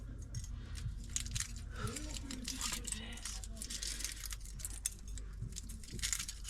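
Two OXO stock cubes are crumbled by hand over a cooking pan, giving soft crackly crunching and crinkling of the foil wrapping, close up with steady kitchen background noise.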